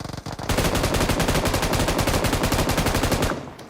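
Rapid automatic gunfire in the battle-royale mobile game BGMI/PUBG, a loud, close, continuous burst of shots lasting about three seconds after a brief lead-in, with no voices over it.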